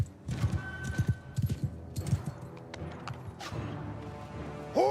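Horse archers gallop in a strategy video game, with quick thudding hoofbeats in clustered bursts, moderately loud over a busy battle din and a brief neigh-like cry at the end.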